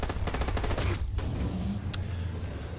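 A gun turret fires a rapid rattling burst in the shooter game Dirty Bomb, close and loud, the rhythmic shots giving way to a dense rumble of continued gunfire and impacts.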